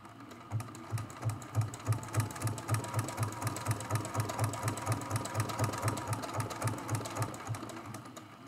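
A sewing machine runs slowly for free-motion quilting, giving a steady, close mechanical chatter of even, rapid stitches with a low motor hum underneath and no talking.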